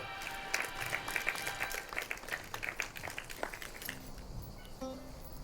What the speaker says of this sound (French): applaudissements pour nos buses.